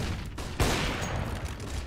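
Rapid gunfire crackles in a Counter-Strike: Global Offensive match, a loud burst of shots over a noisy background with no talking.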